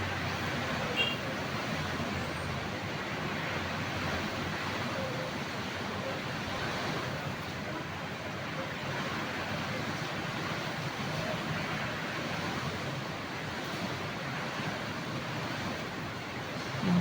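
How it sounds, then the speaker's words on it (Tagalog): Strong wind and heavy rain during Typhoon Kristine, heard as a steady, dense roar that persists without break for seventeen seconds, fairly distant and even. "Lakas ng hangin."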